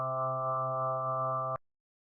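A steady FM-synthesized tone with stacked harmonic bands shaped to imitate the resonances of a sung "ah" vowel, held evenly for about a second and a half before cutting off abruptly into silence.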